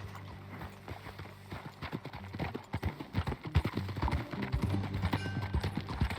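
A horse's hooves clip-clop at a walking pace in Red Dead Redemption 2, with clear, fairly close hoofbeats that speed into a steadier rhythm partway through, along with a faint snort or whinny.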